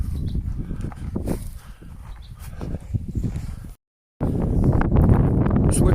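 Wind gusts across an exposed hillside trail on the southwestern edge of the Isle of Bute, Scotland, a steady rough buffeting close to the microphone, broken by a brief dropout before resuming louder.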